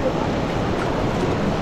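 Strong river current rushing past while people cross by raft on a hiking trip in Bukidnon, a dense continuous roar of water close to the microphone.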